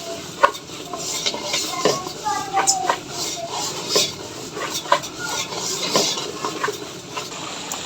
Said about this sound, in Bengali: আমি এখন ভালোভাবে নেড়ে মিশিয়ে নিচ্ছি।